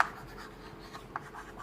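Marker or chalk writing on a board during a chemistry class, soft scratchy strokes in a steady stream, faint and close with no voices.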